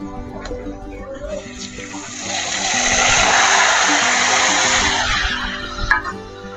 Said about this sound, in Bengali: এবার আমি চিকেনটা দিয়ে দেবো কড়াইয়ে।